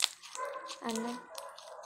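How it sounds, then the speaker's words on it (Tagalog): A dog barking indoors makes a few short, sharp barks with brief gaps between them, fairly faint and mixed with some vocal sound. "yung aso naman yung maingay ngayon"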